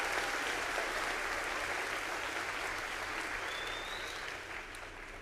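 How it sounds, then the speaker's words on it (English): Sustained applause from a crowd in a school gym at a high school veterans assembly, honoring an a cappella choir; steady dense clapping that holds for several seconds, then eases slightly toward the end. "Let's give one more round of applause for your a cappella choir"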